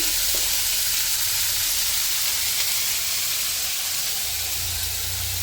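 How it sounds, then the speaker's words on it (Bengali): Taro stems and potatoes fry in a pan with a loud, steady, close sizzle and hiss that holds without a break. "একটু ভালো করে ভেজে নেব"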